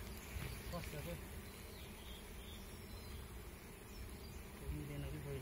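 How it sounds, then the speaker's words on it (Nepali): Honeybees, a gentle, rarely stinging colony, hum steadily and continuously while being put into a hive, the close insect drone filling the whole stretch with voices occasionally talking over it. "तर यो चाहिँ सन्तोकी हुँदो रहेछ मौरी, होइन? खासै नटोक्दो रहेछ।"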